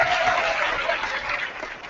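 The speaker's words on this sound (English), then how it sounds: "Why don't we give a great round of applause for Brother Ryan O'Neill" Banquet audience applause, a brief burst of dense clapping from a crowd in a hall, steady and moderately loud with faint voices underneath.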